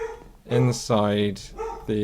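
A dog barks a few times in the background, the short yelping barks mixed with someone talking over them.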